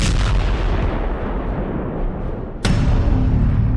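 A loud explosion sound effect rumbles in dense, booming low noise, then a sharp second blast hits abruptly and its roar carries on to the end.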